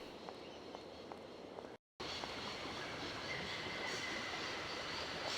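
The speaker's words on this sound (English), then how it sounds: "can you move your train? It's in the way." A train moving in the Syberia adventure game, a steady rumbling rail noise with faint clicks and a brief dropout of silence early on, then continuing loud and even.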